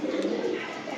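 A pigeon gives one continuous low cooing call close by, steady in loudness from start to finish, with faint background noise.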